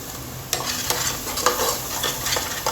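Spices with Kashmiri red chili fry in a pan, a dense close sizzle broken by quick scraping stirs and a few sharp clicks.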